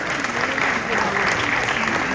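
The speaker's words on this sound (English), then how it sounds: "Big applause for them." A concert audience at a live performance at Zepp Kuala Lumpur breaks into loud, sustained applause. The clapping blends with crowd noise and comes through as a thick, continuous wash.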